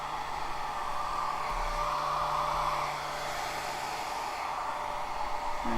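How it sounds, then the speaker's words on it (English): A hair dryer blows steadily at close range over alcohol inks on a gelli print, a constant broadband whoosh with a faint motor hum that holds nearly unchanged for several seconds. "And now let's give it a little blow here with the dryer."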